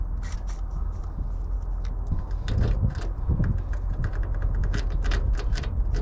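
Jiggler key scraping and clicking in the worn trunk lock of a rotting 1967 Cadillac convertible, a fast run of small metallic ticks and rattles close up, with a steady low rumble underneath.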